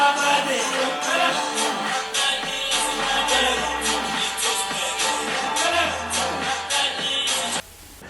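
Music plays through the built-in Bang & Olufsen speakers of an HP Omen X 2S laptop, giving a full, steady song with a rhythmic beat and bass that cuts off abruptly at the end.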